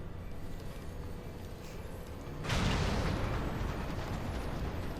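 Explosions and cannon fire in the Final Fantasy XIV Stormblood airship battle: a steady rumbling din that swells into a louder, dense burst of blasts halfway through, with no voices.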